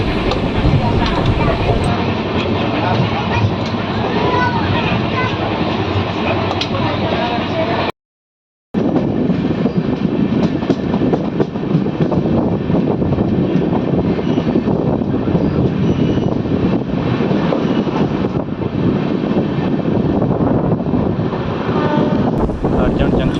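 Inside a coach of the Valsad–Dahod Intercity Express, a loud continuous roar and rumble of the running train carries on throughout, broken once by a brief silent gap.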